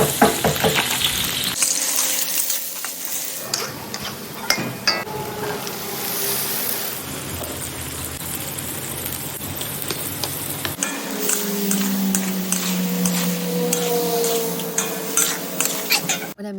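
Buffalo chicken hamburger helper sizzles steadily in a pan while a utensil stirs and scrapes through it, with clinks against the pan and no talking.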